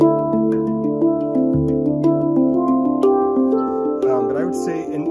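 A stainless steel handpan is struck in a melodic run of tones with long, blooming sustain, notes ringing over one another, close and clear with no talking.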